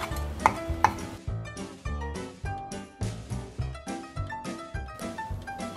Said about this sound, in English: Chop it into small pieces.